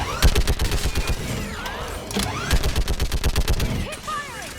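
Rapid bursts of automatic gunfire in a sci-fi shooter battle, loud, close and rhythmic, pausing briefly between volleys, with whooshing weapon effects and shouted voices over the shooting.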